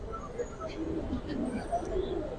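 Giribaj pigeons at a bird market coo softly in low repeated phrases, mixed with light chirps and a murmur of voices and crowd noise around them.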